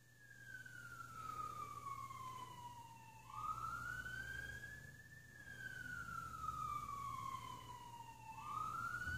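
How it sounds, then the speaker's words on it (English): A wailing emergency siren sweeps slowly up and down in long cycles, fairly distant and steady, with low traffic rumble underneath. "I'll just wait for the siren to pass."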